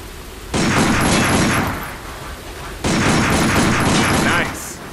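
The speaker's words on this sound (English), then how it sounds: "Take out your handgun and try shooting that sign" Handgun shots aimed at a sign in Binary Domain land as two loud, dense bursts of firing, each lasting over a second with a gap between, over low background ambience.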